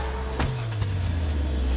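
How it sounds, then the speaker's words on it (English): A car engine starts up as an edited sound effect, with a sharp crank followed by a steady low idle rumble that carries on to the end, loud and close with no talk. "And then we have the car starting, and everything continues."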